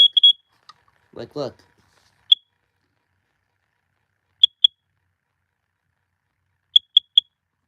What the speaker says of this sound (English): It's how the smoke alarm acts up.